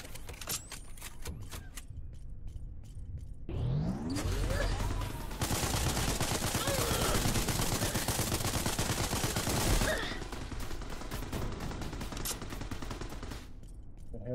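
Terminators firing weapons in the Spacebourne 2 space game, a dense, sustained burst of rapid gunfire lasting several seconds, loud and close, with sparser shots before and after.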